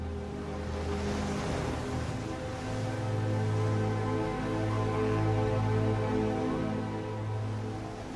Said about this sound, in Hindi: एक विशाल लहर इस बच्चे के लिए मुसीबत ला सकती है।